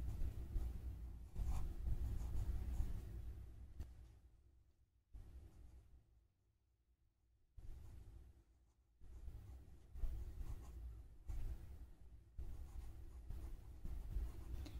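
Pen or chalk writing out a geometry statement, a close, quiet scratching in bursts separated by short pauses, with one longer silent gap midway.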